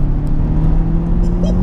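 A Honda Civic FK2 Type R pulls hard in second gear around 4,000 RPM, heard from inside as a steady, loud engine drone with a low rumble throughout.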